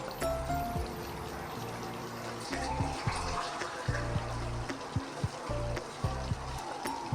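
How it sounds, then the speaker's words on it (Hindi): Water poured from a glass into a pot of homemade chicken nihari, a steady trickling pour with clinks and kitchen clatter, fairly close and moderately loud with no talk. "हमने इसमें 2 गिलास डालने पानी।"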